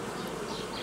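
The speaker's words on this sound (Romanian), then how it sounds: "Că este mult albină pe diafragmă" Honeybees buzz on a hive frame, a dense, continuous drone of many bees up close, steady and unbroken throughout the brief moment.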